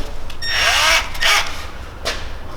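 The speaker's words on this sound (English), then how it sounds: "let's drill the hole" A power drill bores a hole for fitting a diffuser on a BMW E36, with a few short, loud whining bursts that rise and fall in pitch.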